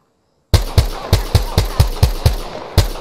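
Gunfire from enemies in the video game Apex Legends, with about nine loud, sharp shots cracking out in a steady, slightly uneven rhythm after a brief silence, close and without talk.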